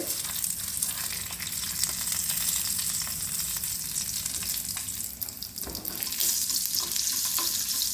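Steady, close sizzling of garlic and tempering spices frying in hot oil, a constant crackling hiss with no talking.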